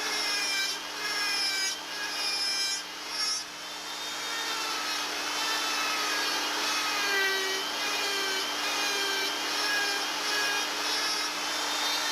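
Close, steady rasping and scraping of hand tools hollowing and smoothing a carved wooden cowling for a model airplane, continuous strokes with a faint hum underneath and no talk.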